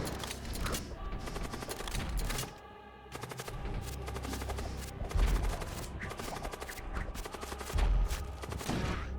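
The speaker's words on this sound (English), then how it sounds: "Activate the artillery thing." Artillery firing in the space strategy game Void War, dense volleys of rapid gunfire-like blasts and booms rattling on almost nonstop with one brief lull and a few heavier thumps.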